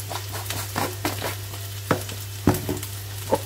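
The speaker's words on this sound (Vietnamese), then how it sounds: "Tất cả đều xào chung nhanh gọn và lẹ" Noodles and celery are stir-fried in a hot pan, a steady close sizzle punctuated by irregular scraping and tossing strokes of the utensil, over a constant low electrical hum.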